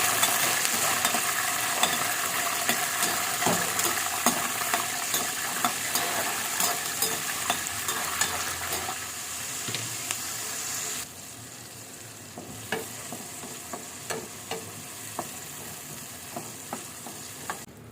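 Turkey berries fry in oil in a pan, a steady close sizzle punctuated by repeated stirring scrapes of a spoon, with the sizzle easing slightly in the second half.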